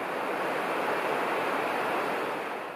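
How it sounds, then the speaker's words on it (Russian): A river rushes beside a mountain trail in the Khibiny Mountains of the Kola Peninsula, a steady, loud, broadband roar of flowing water that holds even and unbroken throughout, with no voices. "Идет тропа, шум реки"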